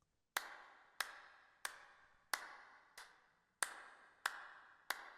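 Eight soloed hand-clap samples from the Dwarf Fortress soundtrack ring out one at a time, dry and sharp, spaced at roughly even intervals with short decays between them.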